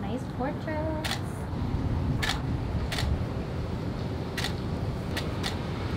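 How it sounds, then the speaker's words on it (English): Several sharp camera shutter clicks, irregularly spaced, sound during an outdoor portrait photoshoot over a constant roar of passing street traffic. "I just know that was a shutter"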